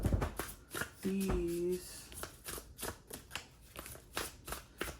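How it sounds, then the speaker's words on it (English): Rapid riffling card shuffles crackle in repeated bursts, close up, while a person speaks briefly over the start. "So I'm just going to shuffle"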